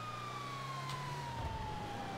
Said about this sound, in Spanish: Vamos a poner las sirenas.